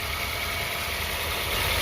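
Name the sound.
used car engine idling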